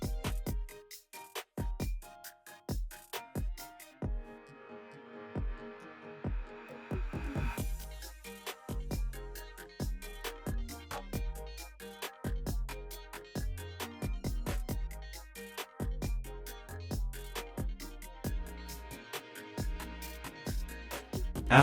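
Alpha Pro Kukai key cutting machine running a 1.5mm cutter along a SEA key blank, with a steady motor throb and repeated sharp cutting strikes that grow denser after a brief pause, close and alone.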